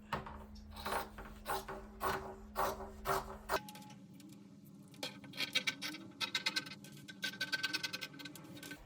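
Scissors cut a fabric pocket for a tote bag, with quick rhythmic snipping and scratching that comes in close bursts, pauses briefly, then resumes in a faster run of cuts.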